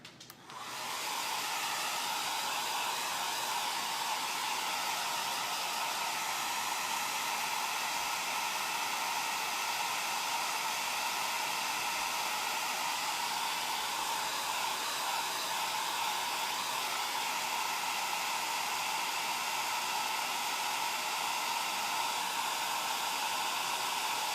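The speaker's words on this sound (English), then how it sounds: "So I'm just gonna blow this dry." Hair dryer blowing chalk paste dry on an old cupboard door, switching on abruptly and then running as a loud, steady whoosh for the whole stretch, with no talking.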